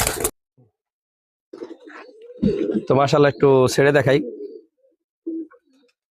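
Pigeons coo in low, soft bursts near the microphone, with someone talking over part of it.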